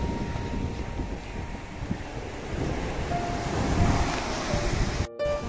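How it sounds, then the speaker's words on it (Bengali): Ocean waves near Pondicherry roll and wash continuously with steady surf noise and wind buffeting the microphone, and ships sit offshore. "The sound of the wave, শব্দটা শুধু শোনো, অসাধারণ অসাধারণ।"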